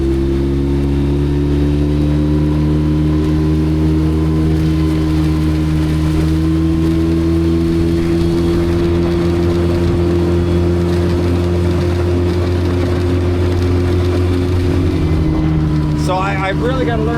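A motorboat engine runs loud and steady at close range, a constant throbbing drone with rattling, rising slightly near the end.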